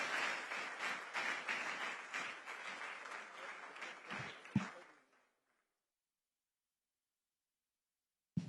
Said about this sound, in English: Can we sustain the clap for Head National Office as she comes to deliver the welcome address?